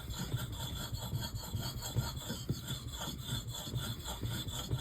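Axe blade stroked across a natural Belgian coticule whetstone, a rhythmic rasping scrape repeating roughly twice a second, close and moderately quiet with no speech.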